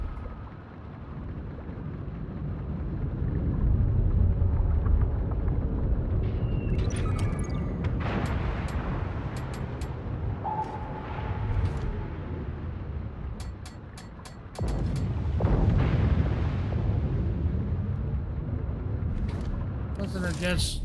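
Torpedoes strike a warship in World of Warships with deep rumbling blasts, one near the start and another swelling midway, over steady engine and water noise while someone talks throughout.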